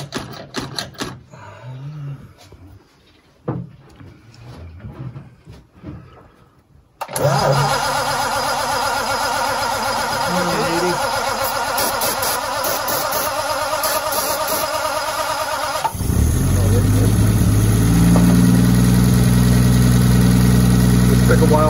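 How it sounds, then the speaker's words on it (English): A 1940 Mercedes barn-find engine is cranked on choke. After quiet shuffling, it catches around the middle and settles into a loud, steady idle close by, growing rougher and deeper near the end. "Start like that and then maybe choke it a little."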